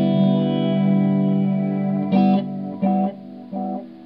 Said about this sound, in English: This is like a little flutter crinkle thing.